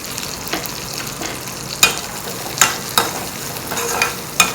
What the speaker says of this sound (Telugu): ఈ లోపల ఇవి నేను ఒకసారి చూస్తాను ఆనియన్స్ ఎంతవరకు ఫ్రై అయ్యాయో.